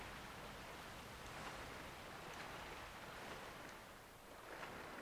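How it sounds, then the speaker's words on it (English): A large waterfall in Sekiro: Shadows Die Twice gives off a steady, faint, rushing roar of water that never pauses or changes much, with no voices over it. "No, that's a big ass waterfall."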